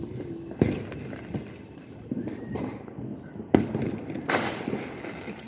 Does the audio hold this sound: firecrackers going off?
yes